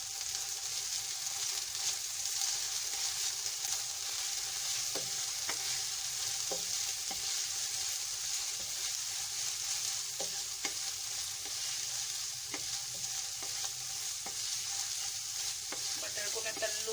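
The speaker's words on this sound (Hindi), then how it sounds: "मटर को मैं तल लूंगी लहसुन अदरक के साथ ऑयल में।" Peas frying in oil with garlic and ginger, a constant bright sizzle close by with faint periodic ticks and pops running through it, no talking.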